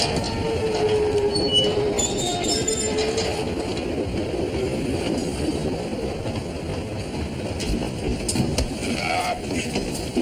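A train runs with a dense, rattling rumble and occasional metallic squeals and clinks, steady and fairly close throughout.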